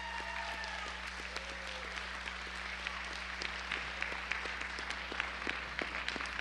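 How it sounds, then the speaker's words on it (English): An audience applauds students at a school spelling bee competition, with steady sustained clapping from a crowd in a large room, fairly distant and even throughout. "give these students one big round of applause"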